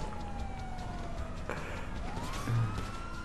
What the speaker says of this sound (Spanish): La sirena, pon la sirena.